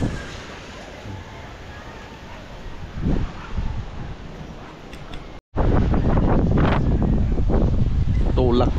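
Strong typhoon wind buffets the microphone in a steady rushing roar. A sudden gap cuts it off, then harder gusts return, and voices speak over the wind.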